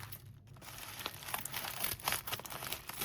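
Bead box subscription package being cut open, faint close crinkling and rustling of plastic packaging with small scraping cuts throughout.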